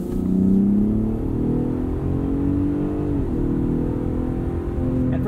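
A 2021 Ford F-150 Raptor 4x4 Supercrew truck on BFG KO2 tires accelerates hard, its engine droning steadily and rising in pitch through gear changes, heard loud and continuous from inside the cab.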